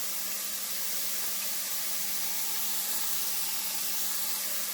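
Chopped onions hitting a hot pan for a hearty weeknight soup, giving a steady, even sizzle that hisses continuously throughout without talk.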